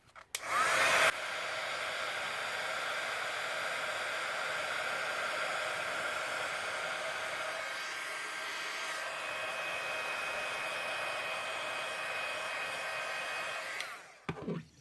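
A heat embossing tool blows hot air in a steady, loud whoosh that runs nearly without a break, close to the microphone, during a beginner card-making session with embossing. There is no talk over it.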